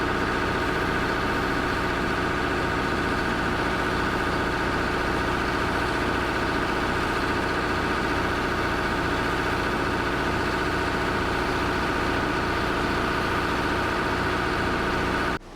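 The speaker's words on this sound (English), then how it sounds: "Engines roar, hydraulics hiss, and the ground trembles beneath their weight." An excavator's engine runs at a steady idle, giving a continuous low, throbbing mechanical drone with even vibration that holds for the whole stretch, with no voices over it.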